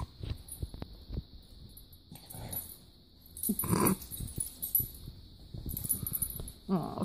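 A French Bulldog growls at a puppy in low, rumbling bursts with snorts and wheezy breaths, close by, while a person speaks briefly in the background.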